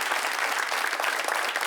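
An audience at a school event gives a strong, sustained round of applause, close and dense, with crowd noise mixed into the steady clapping throughout.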